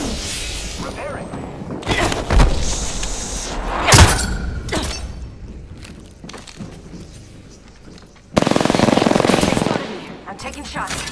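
Loud video game gunfire of rapid machine-gun bursts and heavy booming shots, dense and close, ending in a sustained rattling volley.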